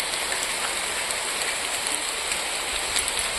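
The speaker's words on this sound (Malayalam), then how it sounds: "മഴയും പെയ്യുന്നു." Steady rain falls throughout, a dense, even hiss of drops on surfaces, close and constant with no voices.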